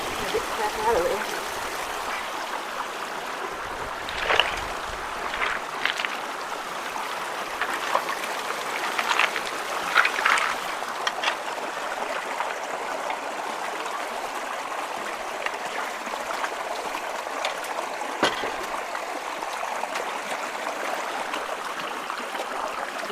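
Water rushes steadily through a low water bridge in the woods after the clog is cleared, a continuous close stream of burbling and trickling under occasional voices.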